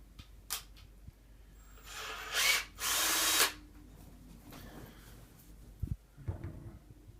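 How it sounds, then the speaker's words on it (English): A power drill whirs in two short bursts, the second longer, boring through Lexan plastic, surrounded by quiet handling clicks and light bumps. "I'm letting the drill bit do the work so as not to crack, bend, or break the lexan."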